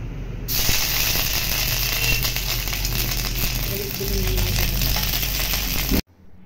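Potato pieces dropped into hot mustard oil tempered with dried red chilli, bay leaf and nigella seeds, a loud steady hiss and sizzle running unbroken before stopping suddenly.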